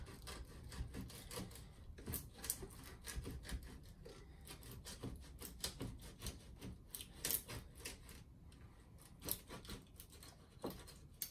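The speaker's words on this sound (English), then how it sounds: "Basically, I'm just sawing the paint here." Steady scraping and rasping of a saw blade cutting through paint on a wooden window sash, close and fairly quiet, in quick irregular strokes.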